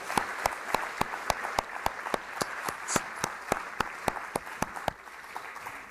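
A festival audience applauds the film Being Charlie at a screening, heard as a soft, thin patter of clapping with sharp distinct claps rising above it at a steady pace, fairly distant, ending abruptly.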